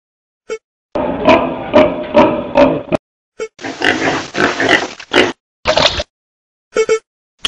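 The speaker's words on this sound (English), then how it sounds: "pig," A farm pig oinks and grunts in two long, loud, choppy bursts followed by shorter snorts, close up, with brief clicks between and no voices.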